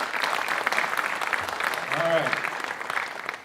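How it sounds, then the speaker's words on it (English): Audience applause at a school board scholar awards event, steady clapping throughout the short stretch while someone speaks briefly over it. "So please give them a round of applause."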